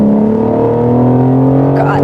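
A BMW M4 fitted with an aftermarket exhaust drones loudly and steadily from close by, a deep continuous engine tone, with a faint sound of a voice near the end.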